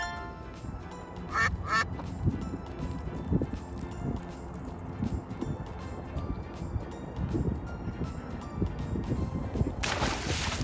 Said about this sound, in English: I'm a special bird that likes to go quack